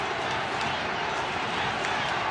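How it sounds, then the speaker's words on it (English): A packed football stadium crowd roars continuously after a USA goal at a Mexico vs USA Concacaf Nations League final, a dense, loud wash of cheering that fills the whole stretch. "And listen to this crowd."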